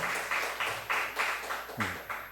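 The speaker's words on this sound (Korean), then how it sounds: "마음으로 박수 한번 더 치겠습니다." A church congregation claps together in a steady rhythm, about eight crisp, moderately loud claps in unison with a larger burst near the end.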